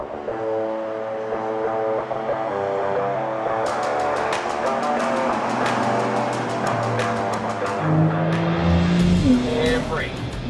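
A Porsche held in a tail slide on a skid pad, its engine droning steadily with rising and falling pitch and some tire noise, loud and continuous, with a high whine toward the end.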